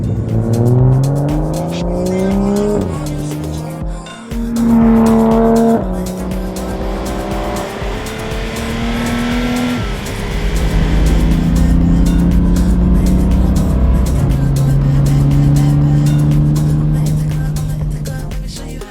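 A BMW 1 Series car engine roars and revs hard as it speeds along, pitch rising and dropping through gear changes, loud and close.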